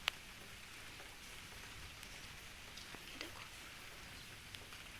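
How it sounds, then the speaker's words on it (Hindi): Light rain falls outdoors in Himachal, a faint, steady hiss with scattered soft drops pattering nearby and no voices. "बारिश लगी है, थोड़ी थोड़ी है पर है।"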